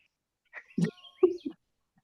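A bird gives a few short chirps and whistled notes in quick succession, close and clear against otherwise near silence.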